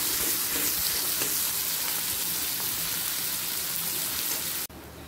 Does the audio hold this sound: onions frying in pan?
yes